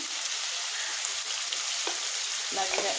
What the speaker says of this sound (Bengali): ভালোভাবে নেড়ে নিই